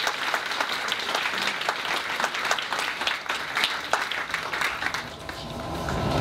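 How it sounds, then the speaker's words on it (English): An audience claps in a sustained round of applause, dense and steady for several seconds before easing slightly near the end. "So let's give them a round of applause for those who have actually taken the time to share"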